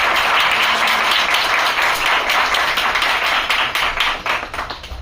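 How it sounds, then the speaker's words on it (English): A college workshop audience gives a sustained, dense round of clapping to welcome the keynote speaker, loud and close throughout before tapering off at the end. "with a huge round of applause"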